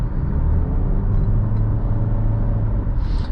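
Interior drone of a 2018 Nissan Rogue SL driving through a corner, a steady low engine and road rumble with tire hum and no talking.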